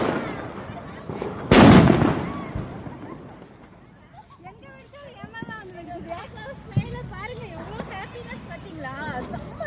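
A single sharp Diwali firecracker bang goes off nearby, followed by excited voices and chatter from people celebrating.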